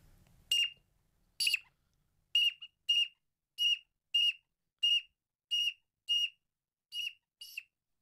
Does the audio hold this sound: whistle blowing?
yes